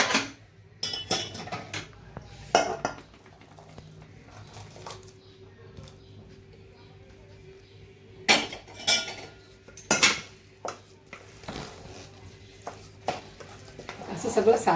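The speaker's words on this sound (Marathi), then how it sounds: "आणि हे पाणी मी आता त्या भातावरती ओतते." Jaggery water is poured over cooked rice, then mixed in a pan, giving scattered clinks and scrapes of a metal spoon against the pan between quiet stretches; someone talks over parts of it.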